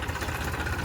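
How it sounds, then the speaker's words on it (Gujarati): A tractor engine idles with a steady low rumble and a fine vibrating chug, close and continuous, during mustard harvest work in a village farmyard. "હવે ટ્રેક્ટરે હેડી"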